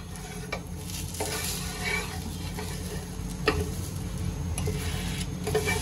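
A ragi dosa sizzles on a hot pan over low heat while a spatula works its edges loose. The steady frying hiss is broken by occasional scraping ticks and clicks, and no one speaks.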